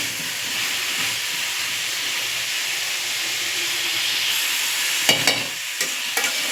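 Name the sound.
cauliflower stir-frying in oil with masala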